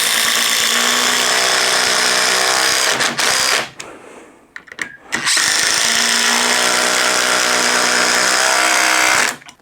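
Ryobi HP and Ridgid impact drivers sink 3-inch by 1/4 screws into wood side by side, a loud, continuous rattling hammer-whine that drops out briefly midway and then returns at full strength, close up with no talking.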